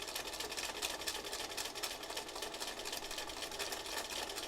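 Sewing machine stitching slivers of mylar instead of real thread, a steady continuous mechanical hum and rapid needle chatter running evenly throughout at moderate level with no pauses.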